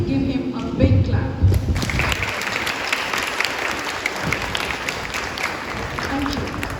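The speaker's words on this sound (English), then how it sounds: "I would like my audience sitting here to please give him a big clap" Audience at an Independence Day celebration breaks into steady, dense applause that lasts several seconds, with voices and some talk mixed in underneath.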